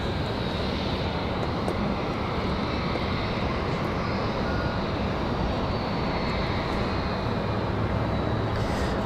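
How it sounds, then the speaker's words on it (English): A Spirit Airlines airliner taxis at Raleigh Durham airport, its jet engines giving a steady, loud, unbroken roar and whine that holds level throughout. "So Spirit Airlines coming off the taxiway and coming to the box."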